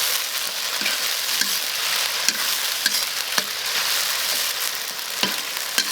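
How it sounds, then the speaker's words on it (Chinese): Beef stir-fried with Sichuan peppercorns in plenty of very hot oil sizzles loudly and steadily, with brief scraping stirs of the spatula spaced every second or so. "我们稍微炒一下就可以盛出来。"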